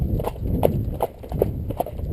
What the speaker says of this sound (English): Let's just see if we can trot as far as the end.